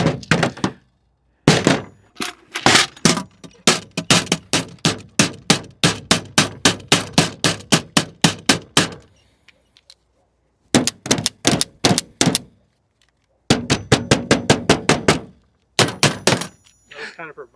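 A handgun fitted with a green-dot optic is dropped repeatedly onto a hard surface, producing a long series of sharp, loud impact thunks in quick bursts separated by brief pauses.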